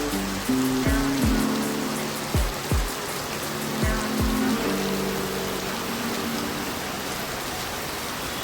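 Heavy rain pours steadily on a roadside stop during a long motorcycle ride from Santiniketan to Cooch Behar, a dense continuous hiss with occasional louder drops and a few low passing vehicle sweeps in the background.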